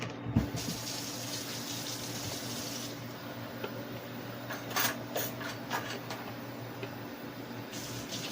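Water runs from a tap into a cup in a kitchen, a steady, soft splashing stream heard close and alone, with a few brief clinks and bumps partway through.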